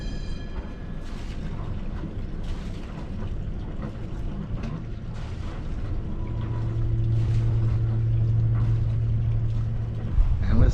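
Sailboat under way out of a Kiel Canal lock, its engine a steady low drone that swells louder midway and holds, with water and wind noise around and a brief clatter at the end.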